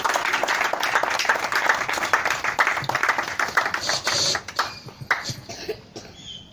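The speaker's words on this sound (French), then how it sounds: "Veuillez l'acclamer." An outdoor crowd at a neighbourhood referendum campaign gathering claps steadily to welcome a speaker, the dense applause thinning into scattered claps toward the end.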